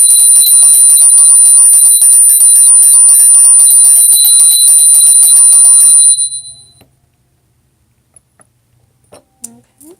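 A bell rings rapidly and continuously, loud and bright, for about six seconds before fading out, followed by a few faint soft knocks.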